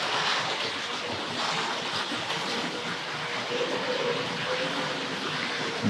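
A Tri-ang Hornby R.555C model diesel Pullman train rumbles along continuously with a soft whirring drone and faint rail clatter, fairly quiet and even throughout.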